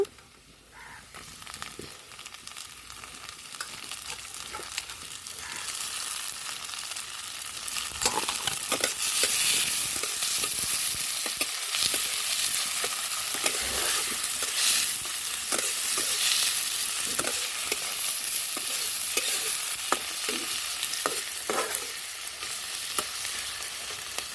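Tomatoes frying in a pan for a green banana kofta curry, a steady hiss of sizzling oil broken by repeated scraping and knocking of a spoon as they are stirred, close and continuous.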